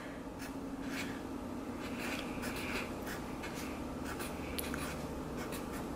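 A permanent marker scrapes across a surface in short, steady strokes with brief pauses between them, close and distinct over a quiet room.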